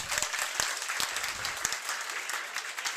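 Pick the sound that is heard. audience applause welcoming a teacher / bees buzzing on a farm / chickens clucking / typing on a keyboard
audience applause welcoming a teacher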